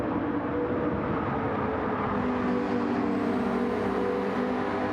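GT3 race cars, with a McLaren pushing past another car, in a sim racing game: a steady engine drone that rises in pitch as one car accelerates, fairly close, with no talk.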